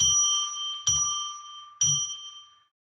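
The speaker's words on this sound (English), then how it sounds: "So let's ring a bell 3 times, which I use to declare a sacred space" A small bell is struck three times at even intervals. Each strike gives a clear ringing tone that fades slowly, and no voices are heard.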